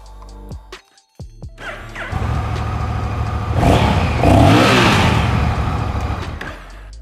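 A 2021 Honda Rebel 1100 motorcycle cranks after a few clicks, fires up and settles into a deep rumbling idle, then is revved loudly twice before dropping back to idle, close and alone.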